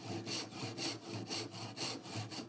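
A hand saw cuts a dovetail template in a steady back-and-forth rhythm, about ten even strokes, close and alone.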